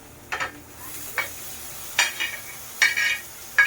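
Bean pods are stir-fried in a pan, with about five short bursts of spatula scraping and tossing over a faint background sizzle and quiet gaps between strokes.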